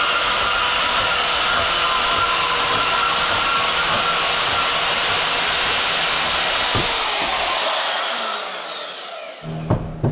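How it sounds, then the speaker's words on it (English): A notch is being cut into an exhaust pipe during a DIY exhaust build on a GMT400 truck with an LS swap. A loud, continuous high grinding whine runs for about eight seconds, then winds down into a few clanks. "We're gonna go ahead and notch this pipe here."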